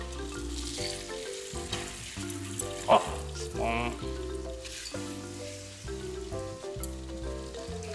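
French toast, bread soaked in egg, fries in oil in a pan with a steady, moderate sizzle beneath prominent background music, and a single short word is spoken briefly.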